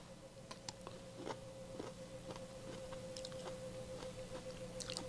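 A cooked asparagus end is bitten and chewed, giving a few faint, close crunches and small chewing clicks over a quiet kitchen hum.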